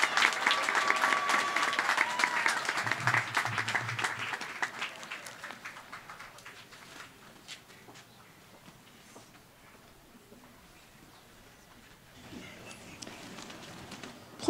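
Applause from the audience for graduates at a 2018 spring college commencement ceremony, loud and sustained at first, then thinning to scattered claps and fading before a brief swell near the end.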